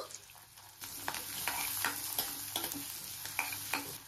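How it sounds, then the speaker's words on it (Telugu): Onions, garlic and cashews fry in a pan for butter chicken, a steady close sizzle broken by repeated scraping stir strokes every half second or so, with no talk over it. "ఇలాగ అన్ని కూడాను మనం ఒక తర్వాత ఒకటి వేసుకొని బాగా ఫ్రై చేసుకోవాలి"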